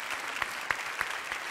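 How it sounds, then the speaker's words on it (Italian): Audience at a live show applauding a guest, a short burst of steady clapping with a few sharper claps standing out. "era Sabina Guzzanti, le facciamo anche un bel applauso."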